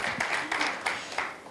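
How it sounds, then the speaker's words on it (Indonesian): Church congregation clapping together at a midweek fellowship service, a steady crowd patter of hands with a few louder surges, fairly close and filling the room. "Tepuk tangan yang dahsyat buat Tuhan"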